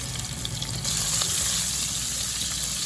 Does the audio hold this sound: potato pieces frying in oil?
yes